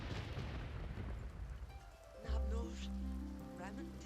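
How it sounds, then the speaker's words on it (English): Steady rain patters in The Sims 2, a broad wash of falling water that carries on throughout while in-game voices and music come in over it in the second half. "It looks like it's raining in the house."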